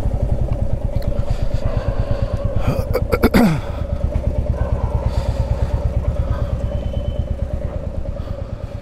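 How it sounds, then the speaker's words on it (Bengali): A motorcycle engine idles steadily with a close, rhythmic chug after a long ride from Puri to Kolkata, with a brief clattering swell partway through and no talking. "আপাতত বাইকটা রাখি, বাইকটা পার্ক করে"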